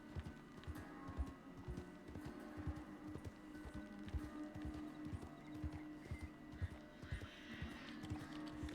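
Horse hooves clip-clop in a steady, brisk rhythm while riding through a Red Dead ranch roleplay game world, close and distinct over a quiet ambient bed, with a faint whinny.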